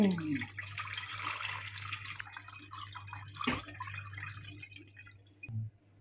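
Coconut milk mixed with ground chillies being strained again for a Konkan-style sol kadhi, a faint trickling and dripping of liquid over a steady low hum, with one louder splash near the middle.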